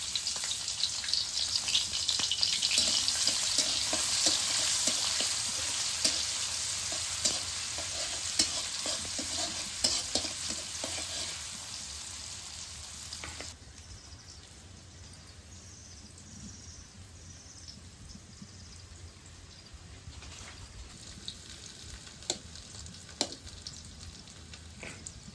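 Chopped onion hits hot soybean oil in a wok with a loud, dense sizzle that slowly fades to a quieter crackle, with scattered stirring scrapes and clinks nearby.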